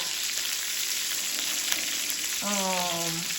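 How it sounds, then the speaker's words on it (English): Onions browning in oil in a single pan for liver and onions, a steady loud sizzle and crackle throughout, with a brief tonal squeak near the end. "I like to brown my onions before I just toss them in there because it makes them like that seared"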